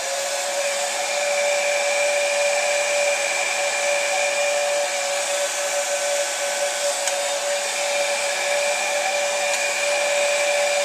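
A heat gun blows steadily on a Hyper 7 engine, a constant, close whirring hiss with a high whine that holds unchanged throughout, with no talk.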